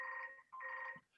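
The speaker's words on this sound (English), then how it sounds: "Can I just answer my phone quickly?" A telephone rings in two short electronic bursts with a pause between, heard alone and fairly faint during an online meeting.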